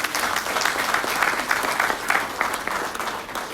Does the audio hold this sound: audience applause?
yes